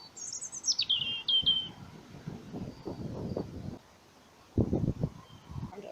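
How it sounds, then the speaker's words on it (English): A blackbird sings outdoors on a winter walk, a few clear high phrases at moderate distance, followed by rustling and footsteps or wind nearby. "Blackbird."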